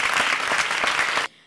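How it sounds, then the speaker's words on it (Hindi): Audience applause at a comedy stage show, loud steady clapping from a large crowd that cuts off abruptly near the end, leaving quiet room tone. "जोरदार तालियां"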